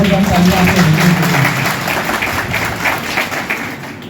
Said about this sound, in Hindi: सबसे जोरदार तालियां आपको।